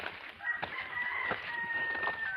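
Chickens at a backyard coop cluck and call several times at moderate distance over a steady outdoor background, with no speech.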